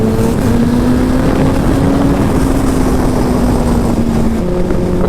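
A turbocharged Suzuki Hayabusa motorcycle with an air shifter pulls hard in a loud, continuous droning roar whose pitch climbs steadily, then drops sharply near the end as a gear change goes through.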